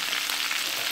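Chicken frying in its own rendered fat in a pan gives a brief, bright burst of sizzling and spitting oil, close and steady, with no voices.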